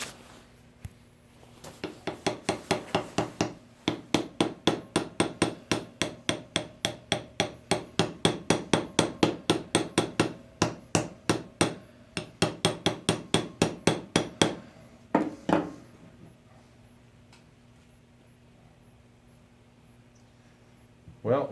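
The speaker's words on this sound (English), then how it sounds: "let me grab the hammer and give it a little tap." Rapid, steady metallic tapping of a hammer on a brass casting mold, dozens of quick strikes in bursts with brief pauses, close by, then a couple of isolated knocks.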